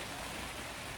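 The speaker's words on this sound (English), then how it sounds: "I hope you can hear the rain on the tent." Rain coming down steadily on a camping tent, a dense, even hiss of drops pattering on the fabric, faint and uninterrupted throughout.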